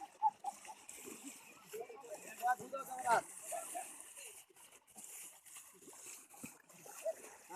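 Water is thrown and splashes in repeated uneven bursts during an outdoor ritual, with people chanting and talking loudly throughout.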